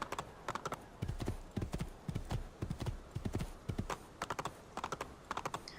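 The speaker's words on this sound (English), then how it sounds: "Come along, white horsey." A white horse's hooves clip-clopping in Assassin's Creed 2, a steady trotting rhythm of crisp paired hoofbeats on a hard surface, moderately close and continuous, with no talk over it.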